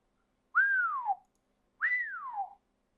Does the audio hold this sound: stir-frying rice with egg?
no